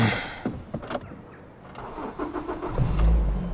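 A Ford C-Max with a 1.8 engine cranks and fires up after a jump start: a few sharp clicks and a short starter whir, then the engine catches and settles into a steady low idle, close by with no talk.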